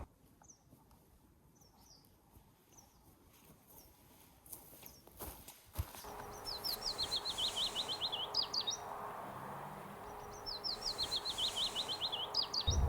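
Birds chirp and sing in open mountain forest at Dovrefjell, Norway, quiet at first, then rapid high trills repeat from nearby over a soft ambient background.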